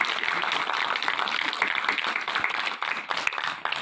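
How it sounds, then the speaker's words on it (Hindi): Dense, steady clapping from a crowd at the closing ceremony of a seven-day camp at a government college in Kamand, with loud, continuous patter throughout and no clear pauses. "मैं ताली बजाऊंगी"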